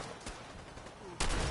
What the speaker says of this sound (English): Let's go shotgun these bad boys